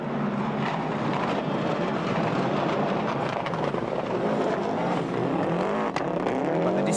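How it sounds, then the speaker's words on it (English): A Subaru flat-four rally car engine roars continuously at high revs, with a crackling, barking edge and a dense, loud wash of noise. It goes on for several seconds with no talking. "But the distinctive crackle and bark of the flat four Subaru engine is a hit with the Portuguese"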